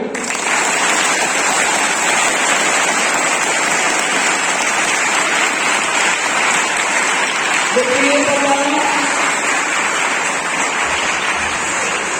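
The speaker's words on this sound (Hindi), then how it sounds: "जिन्होंने सच बोला, हाथ खड़ा किया, उनके लिए ताली बजाओ।" A large group of schoolchildren claps together in a dense, steady roar of applause that fills the whole stretch, with a faint voice briefly rising under it near the end.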